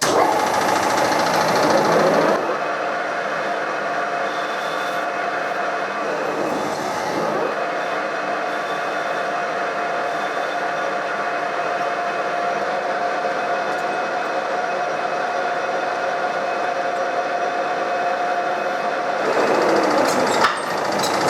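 A lathe spins a metal workpiece at raised speed while making a slide hammer, giving a steady, loud mechanical hum with a whine that runs unbroken for most of the stretch, starting and ending with brief changes in tone, no talking.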